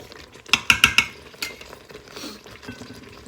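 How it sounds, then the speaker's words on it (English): A spoon clinks and scrapes against the pot while noodles are stirred in Instant Pot beef bolognese, a quick cluster of four sharp metallic taps followed by softer scraping, close and without talk. "Keep stirring it."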